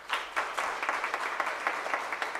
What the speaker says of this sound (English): may we please just applaud our panel for this engaging conversation